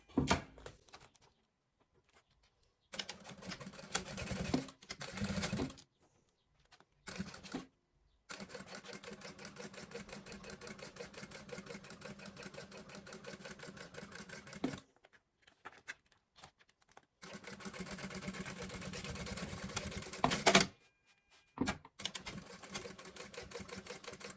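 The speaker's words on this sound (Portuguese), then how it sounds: "E a gente vai passar uma costura." A sewing machine stitches a seam on a fabric pouch in bursts of rapid mechanical clatter, with several short runs and pauses of silence between them, close and fairly quiet.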